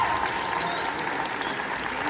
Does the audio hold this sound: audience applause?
yes